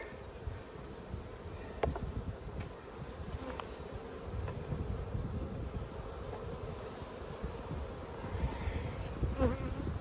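Honey bees buzz in a dense, continuous drone throughout a beekeeper's yard inspection of an open hive, with light wind rustle on the microphone and a few brief clicks and knocks from handling nearby.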